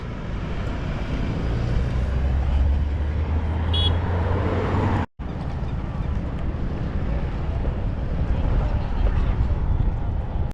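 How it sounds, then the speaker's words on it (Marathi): Road traffic rumbles past a roadside spot on a cycling trip as vehicles approach from behind. A loud, continuous roar is mixed with heavy wind buffeting. "तर गाड्या यायला लागल्यात मागून"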